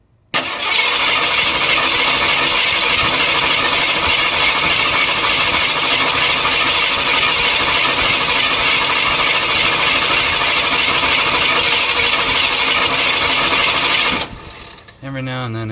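A 302 engine runs with a rough idle from a suspected lifter problem, a loud steady mechanical whir and ticking that holds close for most of the time, then drops and shifts abruptly near the end.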